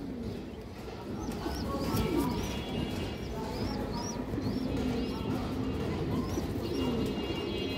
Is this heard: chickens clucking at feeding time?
no